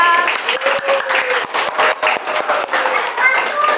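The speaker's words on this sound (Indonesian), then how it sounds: "kita kasih tepuk tangan yang meriah" Audience applause after a primary school class 3A drama performance of a folk tale, a steady, dense wash of many hands clapping together throughout, fairly loud and close, with a voice faintly under it.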